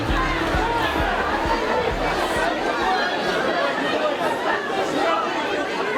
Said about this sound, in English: A crowd of people desperate to leave Ukraine rushing the doors of a train heading west.